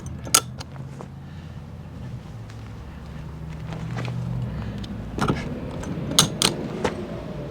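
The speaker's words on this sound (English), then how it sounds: "we're going to unlock our 4 clips that hold the roof of the camper trailer down." Several sharp metallic clicks and clunks from the roof clips of a Jayco Swan camper trailer being unlocked outdoors, scattered over a few seconds with a low background hum, grouped near the end.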